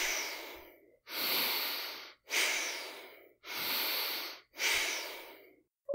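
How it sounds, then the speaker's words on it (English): Rapid, forceful breaths drawn in and pushed out through the nose and mouth, five loud bursts of airy hiss about a second apart with short silences between, close and alone. "or really fast breaths"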